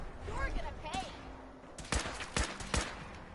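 A robot's laser cannon fires in Fallout 4 with three sharp, loud blasts spaced about half a second apart, following a stretch of quieter talking and background game sound.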